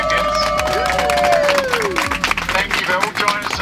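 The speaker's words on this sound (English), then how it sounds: "A big round of applause for their successful trip so far." Passengers aboard an airplane clap and cheer to welcome the Under 14 7v7 national champion youth football team, with a dense round of applause mixed with voices and an announcer speaking over it.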